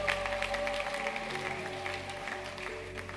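A congregation at a prayer marathon service clapping in acclaim for Jesus Christ, a steady wash of crowd applause, moderately faint and continuous, with a low hum and tonal background beneath.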